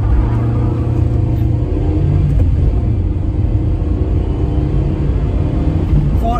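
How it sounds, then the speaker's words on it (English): A small, cheap used car revs hard on a road during a second 0-to-60 acceleration run, a loud, steady engine drone and low rumble that holds close throughout without talk. "I'll give it a bit more revs."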